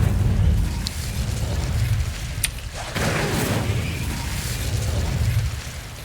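An Incendio fire spell is cast in the video game Hogwarts Legacy, with a loud rumbling whoosh and booming bursts rolling continuously, plus a sharper crack midway.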